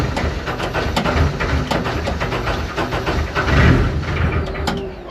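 The rebuilt engine of the Deep Orange 9 runs steadily after a restart attempt, a loud, close, continuous rumble with a hissing fan layered over it and a brief swell in the middle.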